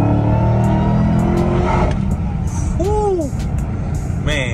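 A 2021 Dodge Charger Hellcat Redeye accelerates on a quiet back road, its engine roaring loudly from inside the cabin. The roar then eases off, and a voice talks briefly near the end.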